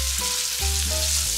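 Hot oil sizzling steadily in a pan over low heat while frying Marmite chicken, a loud continuous crackle with no talking.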